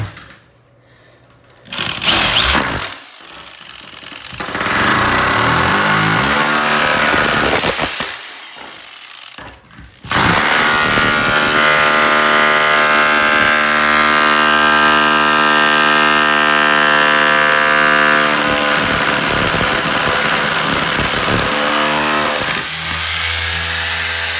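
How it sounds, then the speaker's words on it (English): A rotary hammer chisels away at shower wall tile and mortar up close, loud and rattling, starting in short bursts with pauses, then running continuously with a steady grinding pulse. "you want to use a rotor hammer with a nice bit like this."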